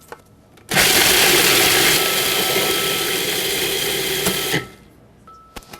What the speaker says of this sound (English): So first I'm going to grind those, and you grind them until they're almost like a fine meal.